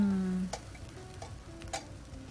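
Pastel de nata mixture stirred in a hot pan, quiet scraping strokes and soft spoon taps against the pan over a low simmering hiss, with a faint tone at the start.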